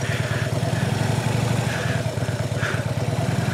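A motorcycle engine runs at a steady idle close by, with an even, rapid low thrum and light mechanical clatter throughout.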